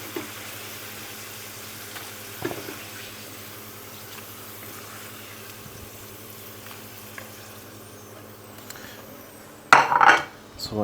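Chopped onions fry in a pan while a cook prepares a broccoli and Stilton bake, a steady low sizzle running throughout with a brief clatter of utensils near the end.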